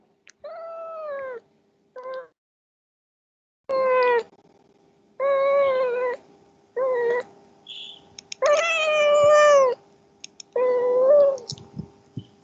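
A hungry cat meowing for food: a series of about eight loud, close, drawn-out meows with varying pitch and short pauses between them, with no talking over them.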